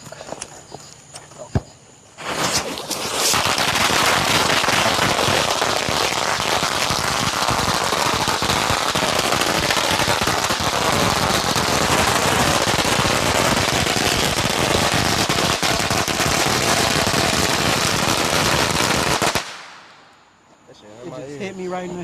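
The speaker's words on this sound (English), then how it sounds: "He was shooting fireworks at me." Fireworks fired at close range during a backyard firework fight, a dense, nonstop barrage of crackling bangs and pops lasting over fifteen seconds before cutting off, with voices heard faintly.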